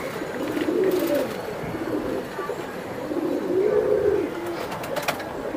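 Several pigeons coo in soft, rolling bursts at a pigeon loft where pairs are kept, the low murmuring calls rising and falling twice against a steady bed of background noise, with occasional faint chirps.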